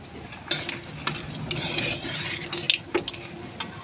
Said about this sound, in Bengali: তেলে দিয়ে দেবো কালো জিরে ফোড়ন